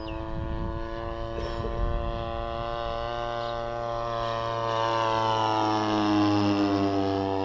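A GeeBee RC model airplane with a DLE 35cc gas engine drones with a high, steady buzz that swells and fades slightly as it passes overhead, with no one talking.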